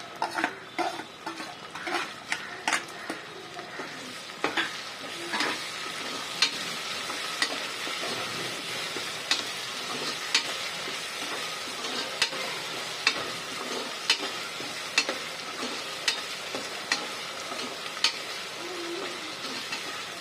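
Tomatoes and other vegetables sizzle in oil for a harvest-festival mixed vegetable dish, under a regular rhythm of a spoon scraping and clinking against the pan as it is stirred, close and moderately loud.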